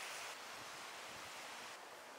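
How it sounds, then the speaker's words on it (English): A waterfall at a steep cliff drop gives a broad, steady roar of rushing water heard from a distance, mixed with some wind noise and no talking. "You see waterfall?"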